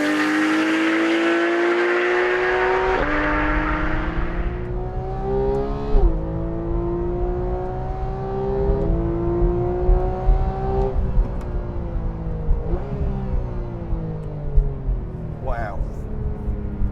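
A 2013 Porsche 911 GT3 sports car with a manual gearbox revs hard while driven, its engine note climbing loudly and dropping sharply at each of several gear changes.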